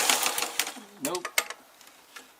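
A sewing machine stitches a belt loop on work pants in short, uneven bursts of rapid mechanical clatter, with voices talking between and over the stitching.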